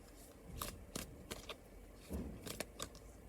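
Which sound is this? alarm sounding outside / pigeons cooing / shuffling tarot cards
shuffling tarot cards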